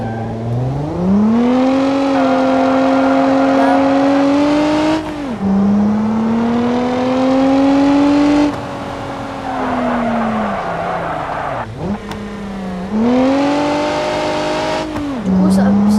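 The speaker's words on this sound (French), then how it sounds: "Celle-là, les gars, c'est une traction." A front-wheel-drive car revs and drives close by. The engine pitch climbs and falls in several long sweeps, with short drops between them as it shifts or lifts off, loud and steady throughout.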